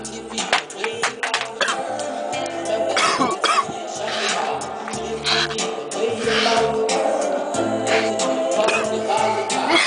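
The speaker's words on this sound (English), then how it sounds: "Still got me coughing" A man coughing hard and repeatedly after smoking a bong, close up, with rough hacking bursts and throat clearing continuing throughout.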